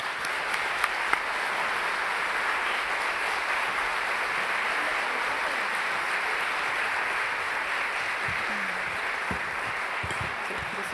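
Sustained audience applause welcoming a guest, a member of parliament, at a political talk event: a dense, even wash of clapping that holds steady throughout, with faint voices rising near the end.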